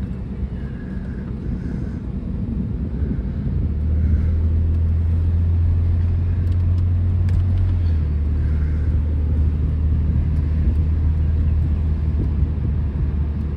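A 2007 BMW Z4 engine hums steadily from the cabin while driving, with a deep low rumble that rises and holds as gears change, mixed with road and wind noise and no talk.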